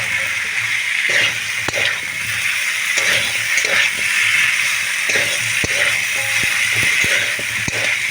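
Cauliflower and potato pieces with ground turmeric fry in a pan for a fish curry, a steady close sizzle and hiss running throughout, with scattered stirring scrapes and clicks and no talk.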